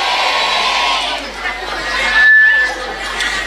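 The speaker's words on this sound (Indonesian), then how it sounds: "Tepuk tangan dulu dong buat masyarakat lancar luar biasa" A large crowd at an outdoor religious gathering for the Nahdlatul Ulama centennial celebration applauds and cheers in a dense, continuous roar of clapping and voices, loud throughout.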